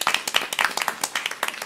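Applause from a small audience at a meeting, a short burst of brisk overlapping hand claps, close and fairly loud, with no talking over it.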